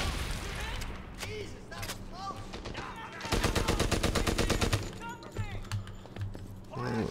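Gunfire fills a Medal of Honor: Airborne battle, with a long rapid machine-gun burst in the middle and scattered single shots before and after, under voices.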